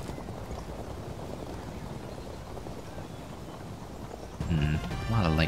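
Light cavalry hooves drum in a steady, rapid clip-clop across the battlefield in the Field of Glory II medieval strategy game, a dense continuous patter that runs on before a voice briefly cuts in near the end.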